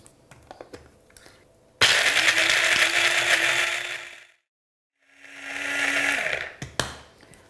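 Two loud bursts from a food processor grinding raw hazelnuts into meal, the first about two seconds long and the second shorter after a silent pause, with a rising whir and grinding rattle.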